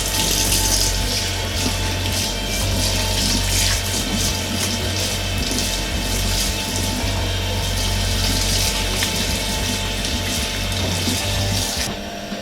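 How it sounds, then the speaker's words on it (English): Hands being washed under a running tap while cooking Ugandan bean stew, a steady loud rush of water pouring continuously for about twelve seconds before cutting off near the end, with no talking. "I'm just going to quickly wash my hands."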